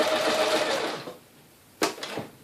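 A sewing machine stitches a straight line in a fast, steady whir for about a second, then stops, followed by a few short mechanical clicks and knocks close by.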